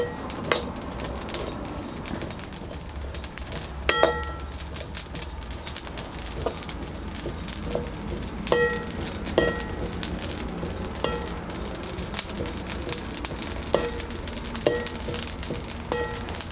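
Cumin seeds dry-roasting in a pan without oil give off faint crackles, while metal utensils clink and scrape against the pan in irregular sharp taps throughout.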